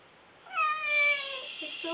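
A cat meows in long, rising and falling cries while being given a bath, close and fairly loud, with a few shorter complaints after; people speak softly around it.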